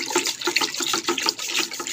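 Water streams steadily into a hydroponics box being filled to 28 liters for lettuce, a close, continuous splashing pour with small rhythmic surges and no talk.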